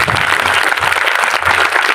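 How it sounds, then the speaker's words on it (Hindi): Loud applause from a church congregation during a Sunday sermon, continuous dense clapping that stays strong and even throughout. "जोर से तालियां बजाएं।"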